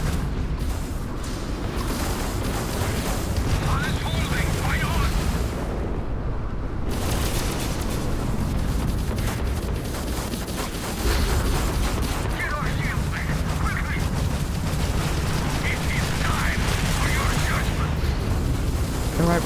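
Spaceship weapons firing at capital ships in the Starfield video game, a dense, continuous barrage of booms and bursts over a steady rumble, loud and sustained throughout, with talk mixed in.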